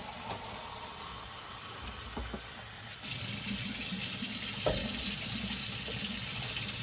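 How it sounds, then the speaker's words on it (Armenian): After a quiet start with a few clinks, water begins pouring steadily into a pot, a continuous close splashing stream. "մի քիչ էլ նորից ջուր կավելացնեմ"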